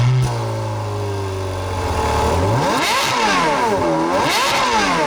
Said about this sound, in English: we're near the exhaust, we might as well take a listen to this glorious sound